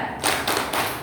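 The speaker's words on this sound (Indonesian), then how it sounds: "Kita berikan tepuk hebat untuk Ibu Atun." A group of women at a neighbourhood family-education meeting in Madiun gives the rhythmic 'tepuk hebat' clap: a short burst of about three sharp, close clap hits in quick succession, with no talking.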